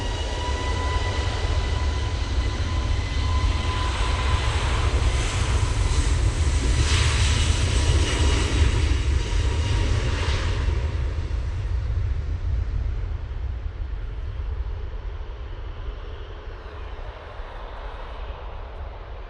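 EasyJet Airbus A321neo jet departing Manchester Airport for Dalaman, a loud, close engine roar that builds and then slowly fades as the aircraft climbs away, no voices.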